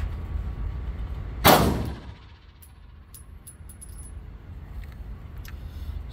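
At an outdoor shooting range, one loud close shot from a Hi-Point C9 pistol rings out and fades. Several light metallic clinks follow in the quieter air.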